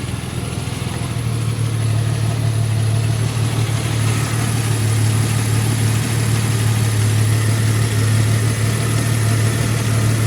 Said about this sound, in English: Got a throw-out bearing going out too.